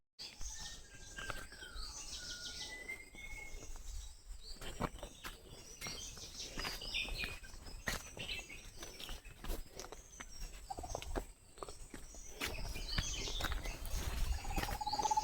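Birds chirp and call in the distance against an outdoor breeze at Asawa fort, with scattered short calls and a few clicks and footstep-like knocks.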